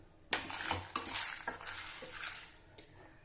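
Peppercorns, dried red chillies and coriander seeds dry roasting in a pan, heard as a dense, close rattle of seeds and spatula scraping with brief clinks against the metal, steady throughout with no talk.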